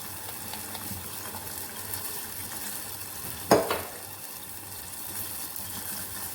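Coconut milk is poured into a pan of frying dried-fish curry paste and stirred, bringing a brief splashing gush then a steady sizzle and scraping of the spoon, close and continuous.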